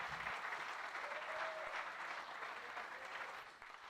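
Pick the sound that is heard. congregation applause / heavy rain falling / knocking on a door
congregation applause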